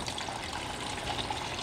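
Water pours steadily into a film developing tank while rinsing E6 film at home, a soft continuous splashing rush, close and fairly quiet, with no talking.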